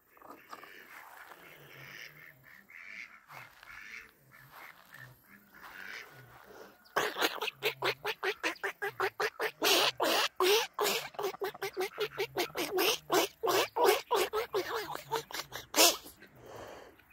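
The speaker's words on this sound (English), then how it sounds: "That's all my baby ducks." A brood of baby ducks on a homestead give rapid, dense peeping quacks that start faint and then build into a loud, steady chorus close by.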